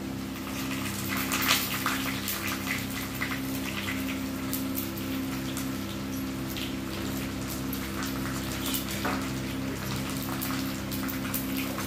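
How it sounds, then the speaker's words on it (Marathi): Curry leaves and red chillies crackle and sizzle in hot oil alongside garlic, a dense spattering hiss with scattered pops over a steady low hum, heard up close without speech. "कढीपत्ता टाकला. त्याच्यात टाकू लाल मिरची."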